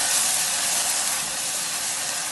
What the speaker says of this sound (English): It starts to sizzle straight away because the cream is cold